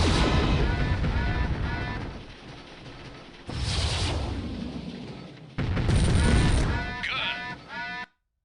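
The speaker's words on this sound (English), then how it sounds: "Try using some of the other weapons to familiarize yourself with the feel of them." Mech weapons fire on a training range in MechWarrior 3, heavy booming bursts and rumbling blasts in three loud stretches with brief drops between, while a voice talks over the gunfire.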